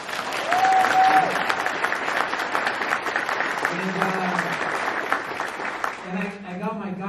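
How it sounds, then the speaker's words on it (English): A comic and toy convention panel audience applauds, a broad patter of clapping that thins toward the middle, with a voice speaking over it and again near the end. "just a round of applause for all of those guys."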